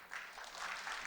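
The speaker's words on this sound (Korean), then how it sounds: "다시 한번 큰 박수 부탁드리겠습니다" An audience at a summer seminar of university presidents claps together in a steady, fairly faint round of applause that swells slightly and continues throughout.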